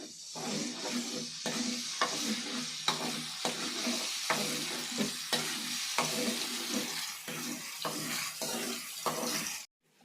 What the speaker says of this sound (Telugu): ఇప్పుడు ఈ మసాలా ఆయిల్లో కలిసిపోయి బ్రౌన్ కలర్కి వచ్చినంతసేపు కలుపుకోవాలి